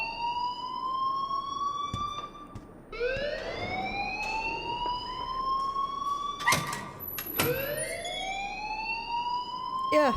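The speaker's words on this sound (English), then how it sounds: "please turn off that alarm since that's your job" A wailing school alarm from the game Life Is Strange, its rising siren tones sweeping up again and again with harmonic overtones, loud and continuous across the whole stretch with no talk over it.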